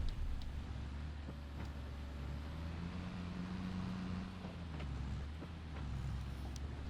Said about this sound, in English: Does change gear a lot, this tractor.